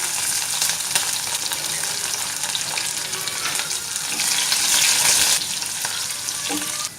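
Curry leaves and green chili pieces hit hot tempering oil for khaman. A loud, continuous crackling sizzle fills the whole stretch, with stirring noises close by.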